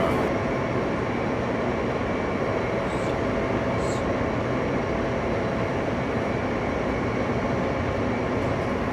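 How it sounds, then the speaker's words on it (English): A Queens-bound local subway train in New York rumbles steadily throughout, a loud, continuous roar of wheels and car noise from inside the moving train. "This is a Queens-bound and local train."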